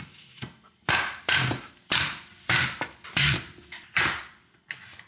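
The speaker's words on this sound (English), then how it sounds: "So we can press out some fries, and that's as simple as cranking this thing through with the handle." A hand-crank fry cutter pushes potatoes through its blades in a series of about eight loud, separate mechanical strokes, each a grinding, creaking press followed by a short pause.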